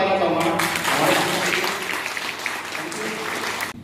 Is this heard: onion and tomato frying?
no